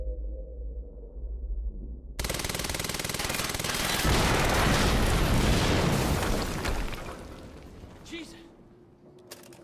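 An explosion near a harvesting perimeter in the video game Quantum Break erupts suddenly into a loud, sustained roaring blast with debris, then slowly fades, while a voice exclaims over it.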